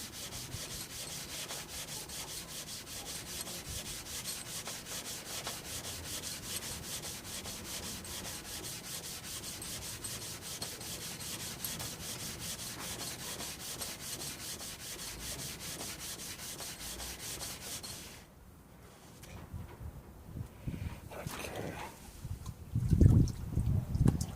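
Synthetic sharpening stones being lapped on sandpaper, a steady rhythmic back-and-forth rasping scrub close by for most of the stretch, then easing off into lighter scraping and handling at the end.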